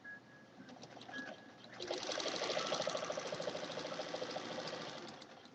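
A sewing machine stitching a row of a wall hanging. Quiet handling comes first, then a steady, rapid mechanical whir runs continuously at close range.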